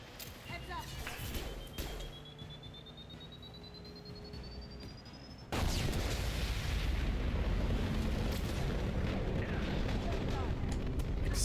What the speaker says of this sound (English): Excessive explosion there